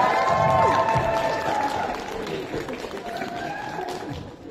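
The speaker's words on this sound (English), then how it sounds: "Can we give them a round of applause?" Audience applause and cheering for the judges at a cosplay contest and masquerade at a comic convention, loud at first and then tapering, with background music tones and crowd noise.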